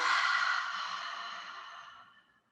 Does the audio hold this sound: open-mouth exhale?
yes